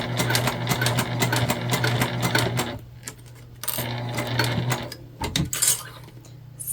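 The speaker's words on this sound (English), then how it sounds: "My machine also does not do well sewing through interfacing like Decaville Heavy" Sewing machine stitching a vinyl tote bag with heavy interfacing, a loud, close motor hum and fast needle clatter that stops and restarts in short runs, with a clunk between bursts.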